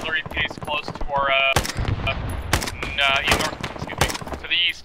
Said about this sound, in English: It sounds like there's a big HMG, down southeast.